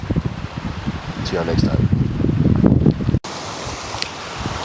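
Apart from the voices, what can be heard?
strong wind over the bay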